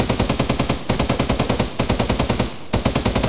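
A P90 fires in Minecraft's Flan's Mod, fast, loud full-auto bursts with a tight, even rhythm of shots, broken by two brief pauses between long strings, with no voices.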